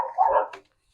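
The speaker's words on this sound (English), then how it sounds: "Those are my dogs." Pet dogs barking indoors at home on a nice day: one short, close bark burst, with a brief yip at the end, then silence.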